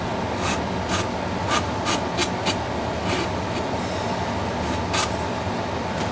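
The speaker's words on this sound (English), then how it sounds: "These sanding sponges come in handy a lot on little oddball stuff like this and leading edges" Repeated abrasive rubbing strokes of a sanding sponge on a model F-14D Tomcat aircraft, a raspy scratching sound pulsing roughly twice a second, close and fairly loud.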